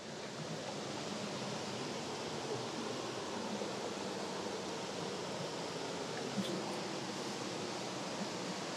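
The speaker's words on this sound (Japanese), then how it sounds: "一応目標の滝着いた" Waterfall in a mountain gorge stream in Oita, a dense steady roar of falling water filling the air, constant and broad with no pauses.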